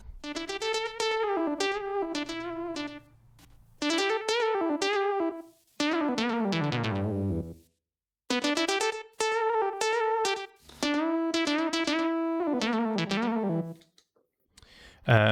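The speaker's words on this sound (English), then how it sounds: "we have the solo part, and that was played on the Juno" A bright Juno synthesizer lead plays a melodic solo in several phrases, with gliding, bending notes and sustained tones, heard alone and up close.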